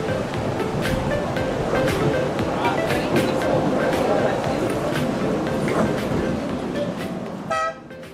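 A solar-powered narrow gauge train (3 ft 6 in) runs along Busselton Jetty over the ocean, giving a continuous loud rumbling roar with faint toots. The noise stays steady for most of the clip and eases near the end.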